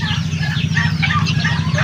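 Red junglefowl roosters, about a dozen kept together, cluck in a close, continuous low throaty chorus with a busy, overlapping texture for a brief stretch.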